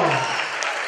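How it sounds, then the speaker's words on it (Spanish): Loud applause from guests at a quinceañera presentation, dense clapping filling the room throughout the short burst. "¡Fuerte el aplauso!"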